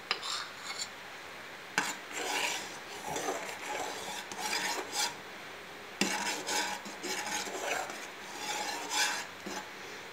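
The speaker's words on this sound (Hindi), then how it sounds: "जब तक 2-3 बॉयल नहीं आ जाएंगे तब तक हम कस्टर्ड में चम्मच जो है वो लगाते रहेंगे।" A spoon scrapes and stirs green custard in a pan as it comes to the boil, with rhythmic rasping strokes, occasional metallic clinks against the pan, and a light bubbling underneath, close and fairly loud.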